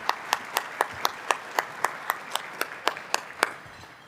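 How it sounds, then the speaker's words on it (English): Steady, evenly spaced handclaps at a business luncheon, roughly four per second in a crisp, regular rhythm, moderately faint with a light room background. "We clap about that."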